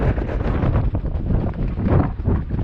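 Strong gusts sweep across a sailboat under sail at sea. The wind blasts the microphone with a loud, continuous low rumble that swells and dips irregularly over a few seconds.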